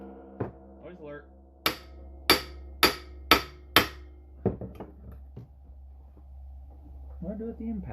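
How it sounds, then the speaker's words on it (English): A hammer strikes a McCulloch 170 arc welder setup five times in a quick, evenly spaced series, loud and close. Fainter knocks follow, and someone talks around the blows. "Get the hammer out."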